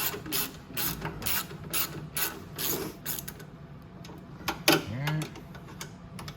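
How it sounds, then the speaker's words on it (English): A ratchet tightens a bolt and nut on a Venom 125cc mini jeep, giving close, rhythmic clicking in quick bursts, then a short pause and a few final clicks. A voice speaks quietly alongside. "And we just tighten this bolt"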